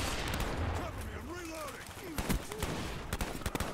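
A G11 rifle in Call of Duty Black Ops fires in a few short, sharp bursts toward the end, partly under voices talking over game noise.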